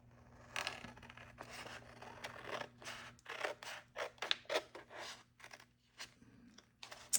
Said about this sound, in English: I'll try and trim it with my big,